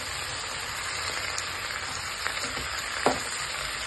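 Spinach sizzles and crackles quietly in a hot pan while it is fried for a chutney, with a steady soft hiss and a few scattered pops.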